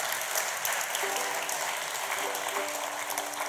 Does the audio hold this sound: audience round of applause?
yes